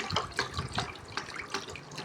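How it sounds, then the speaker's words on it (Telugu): Water splashing and pouring steadily into a vessel of curd, one litre of water to one litre of curd, close by, with a continuous gurgling wash and no voices. "1 లీటర్ పెరుగుకి 1 లీటర్ నీళ్ళు పోసుకున్నాను"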